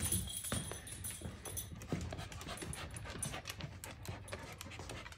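A dog pants steadily and fairly close, its quick breaths running through the whole stretch over soft background noise.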